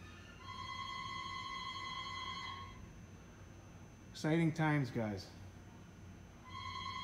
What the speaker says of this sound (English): Somebody needs to answer that phone.